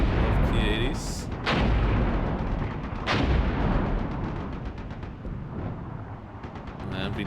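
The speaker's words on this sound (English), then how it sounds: "And we don't get any kills here with our artillery." Artillery shells land in the Cold War tactics game Armored Brigade 2, with three or four deep booming impacts spaced a couple of seconds apart and rumbling between them, while a voice talks over the battle.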